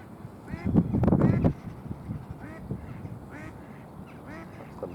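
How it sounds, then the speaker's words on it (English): A mallard duck calls at a pond with a short burst of loud quacks, followed by fainter scattered calls. Voices talk quietly alongside. "the mallard there making that noise"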